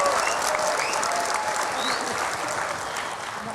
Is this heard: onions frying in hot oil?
no